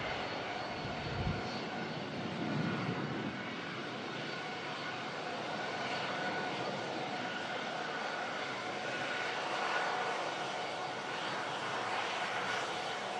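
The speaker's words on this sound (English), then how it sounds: "There's the arriving Ryanair from Béziers, strolling past us at the runway visit park here at Manchester International." A Ryanair airliner rolls past on the ground at Manchester Airport in stormy weather, a faint, steady jet engine whine and rumble carrying from a distance with a brief low thump early on.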